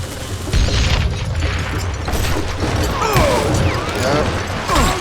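Gunshots and heavy booms from the western shooter game Call of Juarez: Gunslinger, several close loud blasts and impacts in quick irregular succession over a busy, cluttered game soundtrack.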